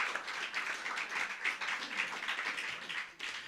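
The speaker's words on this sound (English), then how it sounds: "Give Michael a big round of applause" Applause for the author at a book launch for a book on the families of Valentia: a room of people clapping steadily, fairly faint and distant, sustained throughout with a brief dip near the end.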